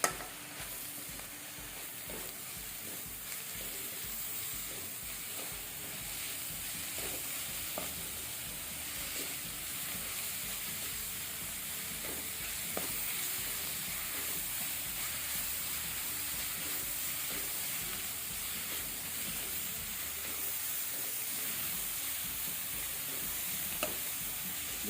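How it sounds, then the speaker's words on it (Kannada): Mint, coriander leaves and green chilies frying in oil for prawn biryani, giving a steady, quiet sizzle with a soft hiss and occasional stirring scrapes, close and continuous with no talking. "ಸ್ವಲ್ಪ ಪುದೀನ, ಸ್ವಲ್ಪ ಕೊತ್ತಂಬರಿ ಸೊಪ್ಪು ಮತ್ತು ಹಸಿಮೆಣಸು. ಇದನ್ನು ಸ್ವಲ್ಪ ಫ್ರೈ ಮಾಡಿಕೊಳ್ಳುವ."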